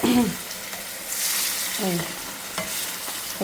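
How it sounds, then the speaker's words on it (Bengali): Hilsa fish sizzles and crackles steadily in hot oil, close up, with occasional scraping stirs of a utensil in the pan. "এই হলো ইলিশ মাছটা ভাজা নিচ্ছি"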